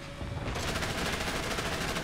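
Explosions and dense gunfire in the War Thunder tank battle game, with a sharp blast opening into a sustained loud clatter of overlapping shots and rumbling booms throughout.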